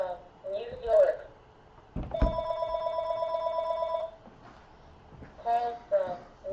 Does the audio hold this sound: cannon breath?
no